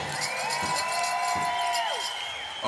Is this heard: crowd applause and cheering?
yes